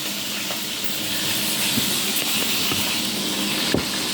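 Small tamban fish frying in hot oil in a pan, a continuous dense sizzle and hiss at steady level with a few faint pops and a brief clatter near the end.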